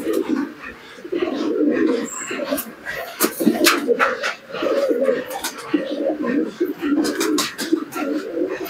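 Pigeons, including a Rampuri hen, coo in soft, repeated low throaty phrases close by, with a few sharper flutters and clicks mixed in.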